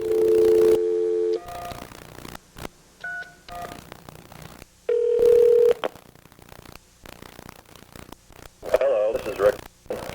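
Telephone call being placed, with touch-tone dialing beeps and line tones alongside short electronic blips and static, fairly loud and broken into uneven bursts with no voices.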